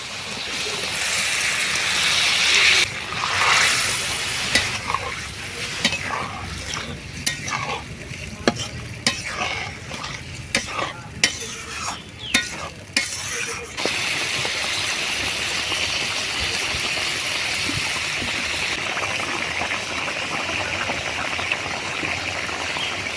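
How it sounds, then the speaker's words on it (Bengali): Lote fish dropped into boiling curry broth, a loud bubbling simmer with a burst of splashy stirring clatter and knocks midway, then settling back into steady rolling boil. "ঝোল ফুটে গেছে এবারে দিয়ে দেবো কেটে রাখা লোটে মাছ"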